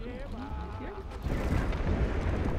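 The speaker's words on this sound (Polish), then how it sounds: "Tu co jakiś czas wybucha wulkan, więc lawy ci u nas będzie dostatek." A volcano erupts in the video game From Dust, a deep rumbling roar that swells and holds loudly in the second half, following a voice speaking over the game at the start.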